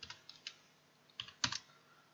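Quiet computer keyboard typing: scattered light key clicks early on, then a short cluster of sharper, louder keystrokes, close and isolated with no talk.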